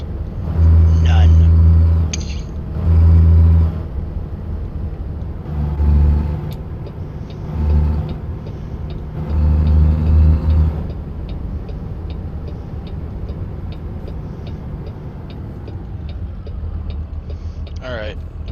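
Heavy diesel engine rumble of a big truck in American Truck Simulator, a steady low drone with repeated surges of loud low throb as the truck moves, with a person talking over it at times.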